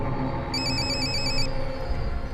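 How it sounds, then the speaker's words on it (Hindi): A phone rings with a bright electronic trill that pulses in a short burst over a steady background hum, fairly close and clear, with no talk. "किसका फोन आ रहा है?"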